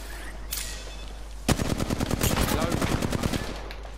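Havoc rifle fire in Apex Legends: after a couple of faint distant shots, a fast automatic burst starts and rattles on steadily for about two seconds under a low background hum.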